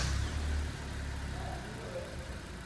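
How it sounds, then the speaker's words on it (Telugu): Toyota Glanza 1.2 litre four-cylinder petrol engine running, a steady low hum with a slightly heavier rumble at the start, heard close and alone. "ఇప్పుడు మనం ఇంజిన్ సౌండ్ ఎలా ఉంటుందో చూద్దాం"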